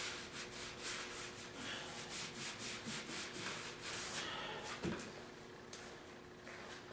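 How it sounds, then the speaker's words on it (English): Cloth wiping along the edge and underside of a table in a refinishing shop, a steady series of rubbing strokes that continues for several seconds, fairly close and moderately loud, with a brief knock partway through. "Wiping up along the edge, the bottom. Wiping the table a little bit."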